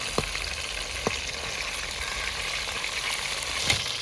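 Chicken kondattam sizzles steadily in hot oil in a pan, a continuous dense crackle with a few sharper pops and spatters rising above it, close and fairly loud, no voices.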